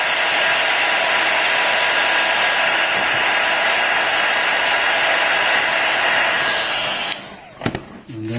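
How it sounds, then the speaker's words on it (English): A heat gun blows a loud, steady hiss of hot air onto the front glass of an iPhone 5 to loosen the glue, then cuts off near the end, followed by a couple of small handling clicks. "then you apply the heat gun on top."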